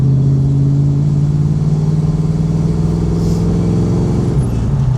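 A 1969 Chevy Camaro SS coupe cruising at 45 mph, its engine giving a steady, loud low rumble heard from inside the car, with a slight change in tone late in the run and no talk.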